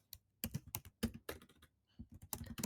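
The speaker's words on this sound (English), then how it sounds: "you can just come in and type a note" Rapid typing on a computer keyboard while entering a note in a recruiting CRM, with close, crisp clusters of key clicks in irregular bursts separated by short pauses.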